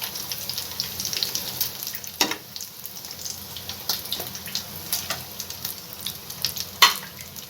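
Crispy maida and potato stuffed snacks frying in oil, a continuous fine crackling sizzle with occasional sharper pops and metal clinks as pieces are turned.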